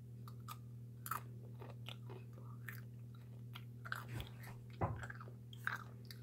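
Homemade nachos, less crunchy than chips, are chewed close up: soft, irregular crunches and bites, a few louder snaps, over a low steady hum and no talk.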